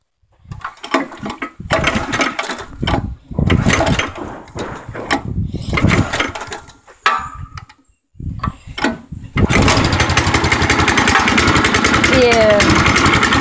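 A Scorpion go-kart engine sputters through several choppy start attempts amid voices, then catches and runs at a steady loud, buzzing idle close by.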